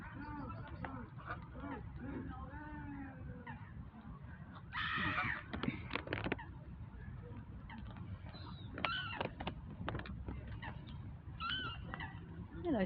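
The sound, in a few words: swan calling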